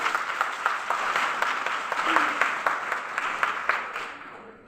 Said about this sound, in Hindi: जोरदार तालियां एक बार अंजलि मैम के लिए